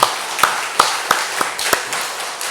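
A church congregation claps in a slow, even rhythm during a worship service, about six sharp beats spaced under a second apart, fading toward the end.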